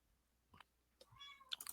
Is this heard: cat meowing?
yes